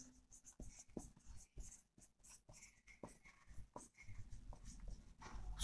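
Pen writing chemistry notes on paper, a run of quick scratchy strokes and taps in irregular bursts, close and faint in a quiet room.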